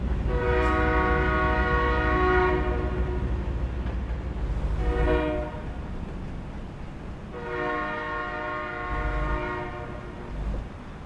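Long blasts of a train horn come in repeated pulses, near and loud, over the steady rumble and faint clatter of a passing train in Louisiana.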